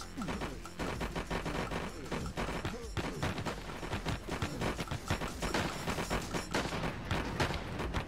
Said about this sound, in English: What's all these machine guns?